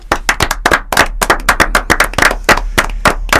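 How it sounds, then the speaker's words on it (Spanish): An audience claps at a short-story contest award ceremony, loud close sharp claps in a quick, fairly steady rhythm with no voices over them. "¿Para quién va el aplauso?"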